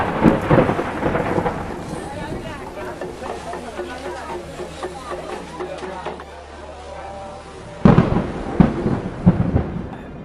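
Heavy monsoon rain pours steadily in the Himalayan pilgrimage town of Kedarnath, with rumbling thunder at the start and a sharper thunder crash near the end, while voices murmur underneath.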